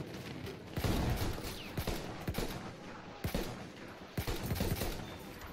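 Battlefield 1 gunfire in the Xbox One X shooter, with sharp shots and short automatic bursts cracking at irregular intervals over a constant rumble of battle, fairly loud and close.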